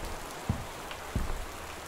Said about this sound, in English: it sounds like it's raining like mad outside